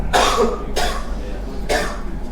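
Three loud, harsh coughs close by in a classroom, spaced unevenly over a couple of seconds, with a low hum in the background.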